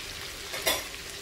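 Egg poured over meat for aporreado sizzles steadily in a hot pan, a close, continuous hiss with a brief louder crackle in the middle.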